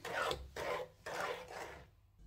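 Roasted chana and moong dal being stirred together in a pan, giving three or four steady scraping, rasping strokes in a rhythmic pattern, close and fairly quiet with no talking.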